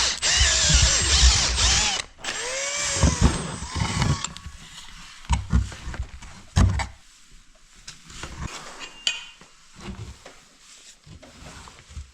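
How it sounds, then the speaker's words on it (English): A power drill runs loudly in a couple of bursts while drilling at a 128-year-old log cabin, then winds down and falls quieter with scattered knocks and handling noises nearby. "This drill has more torque than kilowatts"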